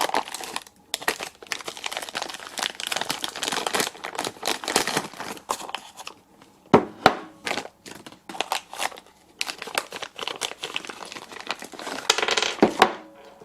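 Plastic and paper wrapping around a quick change tool post for a lathe crinkles and rustles in irregular bursts, close up, with occasional brief clinks of metal parts and short pauses.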